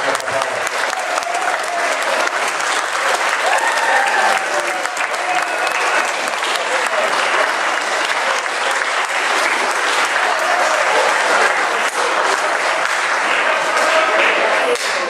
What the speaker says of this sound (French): Là, on les applaudit tous.